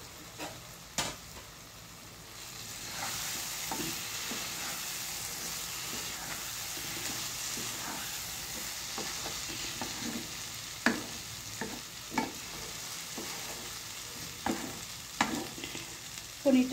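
Paneer pieces sizzle and fry in a pan for masala paneer, a steady broadband hiss punctuated by several sharp spatula clinks and stirring scrapes, with no voices.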